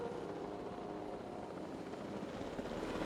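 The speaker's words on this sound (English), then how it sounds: "We have a helicopter standing by, and they'll attempt to tranquilize the animal from the air" Helicopter in the video game Jurassic World Evolution 2, a steady broadband rotor and engine roar that holds at an even, moderate level for the whole stretch with no voices over it.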